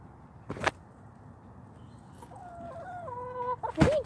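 A pet chicken in its coop making soft, close, warbling clucks and short tonal calls, with a couple of brief bumps or taps nearby.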